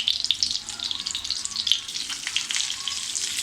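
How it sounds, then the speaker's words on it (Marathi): Chicken cutlets shallow-frying in oil in a pan, a dense, bright crackling sizzle that holds steady and close throughout, with tiny popping spits and no voices. "तर आपण ही दुसरी बाजूसुद्धा छान अशी खरपूस भाजून घेऊया"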